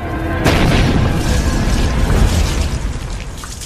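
A sudden loud boom bursts in after a brief lead-in, followed by a sustained roaring rumble that slowly fades, like a cinematic explosion, from the film Wrong Turn 2.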